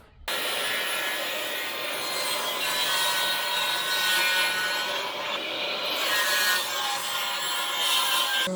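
A hand saw cuts through lumber for a chicken tractor build, a loud, steady, continuous rasping stroke close by with no speech.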